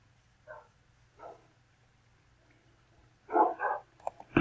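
A puppy gives two small barks early on, then a louder cluster of yips and barks near the end, fairly close and with no talk.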